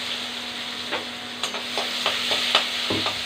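Onion with curry leaves and asafoetida sizzling in hot oil in a pan for radish sambar, a steady fry hiss with occasional stirring clinks, close and alone.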